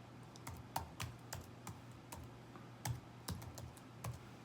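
Irregular bursts of clicking keys as someone types on a computer keyboard, faint and close, with uneven pauses between short runs of strokes.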